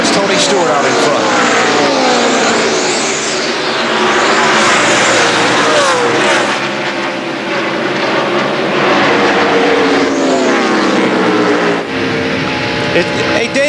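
NASCAR Winston Cup stock cars racing at Dover in 2003, a loud continuous roar of multiple engines sweeping past with shifting pitch, under excited broadcast commentary.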